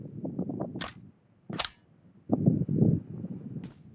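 Sniper rifle shots in a video game ring out as two sharp, loud cracks about a second apart, mixed with muffled thumps and shuffling movement, and a fainter crack near the end.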